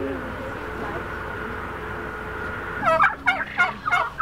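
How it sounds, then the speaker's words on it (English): After a steady background hum, a burst of loud, rapid gobbling poultry calls breaks in close by, several warbling cries in quick succession. "Look at all the chickens."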